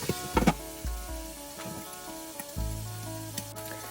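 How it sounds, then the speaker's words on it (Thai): Thick slices of pork belly dry-frying in a pan with no added oil on an electric stove, a steady close sizzle broken by a few loud scraping and stirring clatters. "เราจะเอามา คั่วหรือว่าให้น้ำมันของหมูมันออกมาเองเนาะตอนนี้เราจะบ่ได้ใส่น้ำมันเลย"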